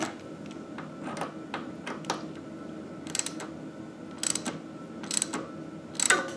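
Tightening the brake cable wire on a Mongoose Juneau 26-inch fat tire bike gives a series of soft clicks and sharp metallic ticks, irregular and fairly close, over a low steady background with no talk.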